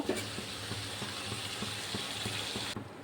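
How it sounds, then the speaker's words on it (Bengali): A ridge gourd curry spiced with turmeric, ginger and garlic paste fries in a pan with a steady close sizzle, while a spoon taps the pan in a regular rhythm. The sizzle drops away sharply near the end. "এবার ঝোল দিয়ে দেবো"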